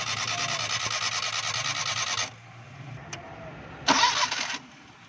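A Suzuki Mehran car with a starting problem cranks and fires, its engine running steadily with a rough mid-range drone for about two seconds before cutting, followed by a brief second burst of engine noise.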